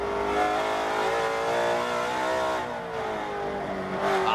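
Mustang Cobra vintage race car engine revving hard at Circuit of the Americas, a loud continuous onboard roar climbing and dropping through gear changes.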